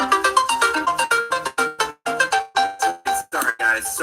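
A phone ringtone plays a bright, rapid melodic pattern of repeating chimed notes, loud and close, with short gaps between phrases during a live stream.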